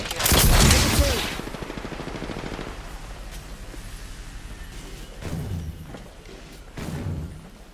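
Gunfire in Apex Legends, a loud close burst of rapid shots up front, then quieter scattered shots and thuds trailing off over the following seconds.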